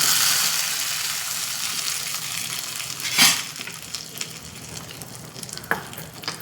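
Hot oil sizzles and crackles steadily during tempering for dal, with a couple of sharper spits as asafoetida is dropped in, and no talking.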